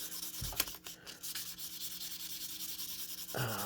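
Sandpaper rubs the contacts of a Super Nintendo cartridge board with a faint, close scratching sound, a couple of short strokes and then steady light scuffing.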